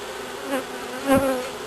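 Honeybees fanning pheromone buzz in a close, continuous drone at a hive, with a couple of brief louder swells as individual bees pass near.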